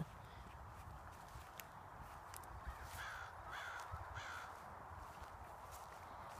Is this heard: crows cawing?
yes